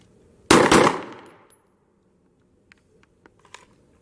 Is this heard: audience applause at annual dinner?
no